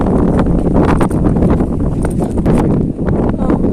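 Steady, loud wind at Laitlum Canyon in Meghalaya roars and buffets the microphone throughout, a dense rushing noise with no clear pauses.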